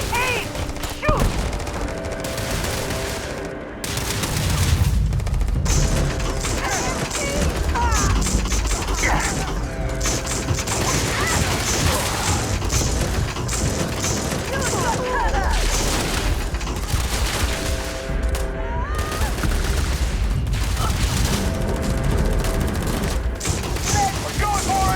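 Gunfire in the Starfield game: dense bursts of rapid shots and heavy booms keep going almost nonstop, loud and close, with brief gaps between volleys and mechanical clatter mixed in.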